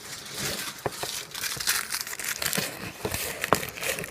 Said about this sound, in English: just add some spacers in there, some paper.